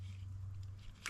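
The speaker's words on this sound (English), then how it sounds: "And because they're dry, they do take some chewing." Crunchy bite of a dry, crispy, spicy snack eaten outdoors while wild camping, faint and close, over a steady low hum and ending in one short, sharper crunch.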